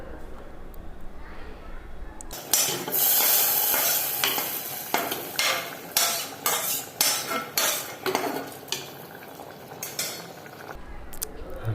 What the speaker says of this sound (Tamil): கூட்டில் சேர்த்து நன்றாக கிண்டி விட்டுக்கலாம்.